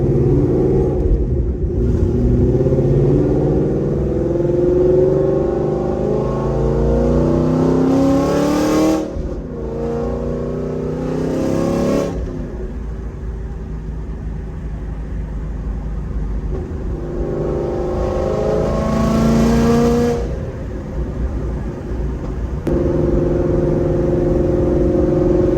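A Gen 2 FBO CJ 5.0 Mustang with a very loud exhaust roars through repeated hard accelerations, the engine pitch climbing through each gear before it shifts and climbs again. The deep rumble is close and loud, with no talking.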